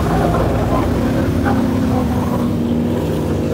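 Civilian motorcycles pass along the Hồ Xuân Hương lakeside road circuit in Da Lat, ahead of a cycling race, making a loud, continuous engine drone that holds steady for several seconds.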